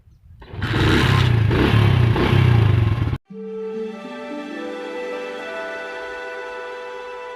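A motorcycle on a Pakistani village road revs loudly with a rough engine drone for about three seconds, then drops to a steadier, quieter hum as it rides on.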